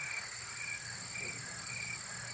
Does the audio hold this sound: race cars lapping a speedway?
no